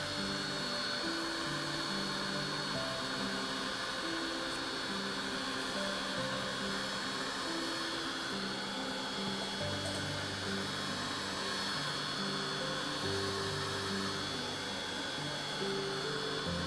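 Heat dryer blowing over a wet Distress Oxide card background: a continuous, even whirring hum with a bright airy hiss, close and steady throughout.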